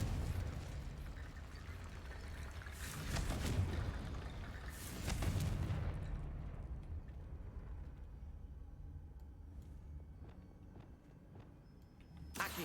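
Confringo blasting-spell explosions in Hogwarts Legacy give two rumbling bursts close together amid busy game noise, followed by quieter scattered impacts and footstep-like taps as the din fades.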